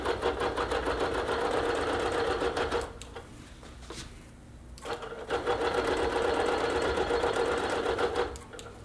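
Sewing machine stitching slowly along a ruler while basting a quilt top, steady loud mechanical whir in two bursts, stopping briefly in the middle before running again, close up.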